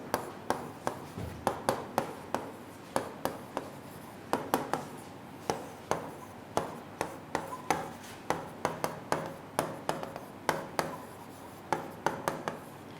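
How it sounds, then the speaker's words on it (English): Chalk or pen strokes writing out a mathematics equation on a board, a steady run of short taps and scratches with brief pauses between strokes, close and clear with no talking. "let me write one example"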